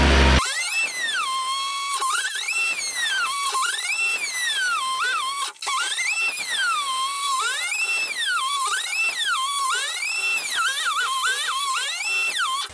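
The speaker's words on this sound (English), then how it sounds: "I'm plugging the grinder in, running over and trying to cut something" An angle grinder cuts into a door, its high-pitched whine rising and falling in repeated strokes as the disc bites and eases, loud and close for the whole stretch with a brief drop midway.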